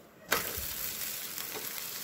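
A tapioca dosa lands in a hot pan after quiet, bursting into a sudden loud sizzle that then holds steady and close, with no voices.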